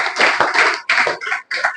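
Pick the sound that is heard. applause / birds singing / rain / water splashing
applause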